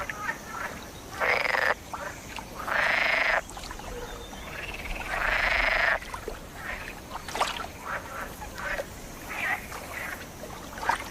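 A chorus of male green frogs croaks in repeated loud bursts in a forest pond, each throaty rattling call lasting a second or two, alternating with quieter background calling and soft water sounds.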